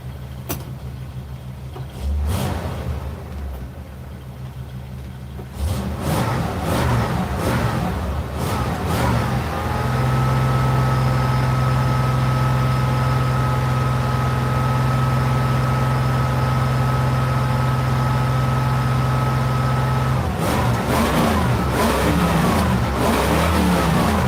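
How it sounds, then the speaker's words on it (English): An RV engine with its original motor revs in repeated bursts, then holds a long steady high-revving drone before more quick blips, loud and close with no talking. "Let's rev baby up."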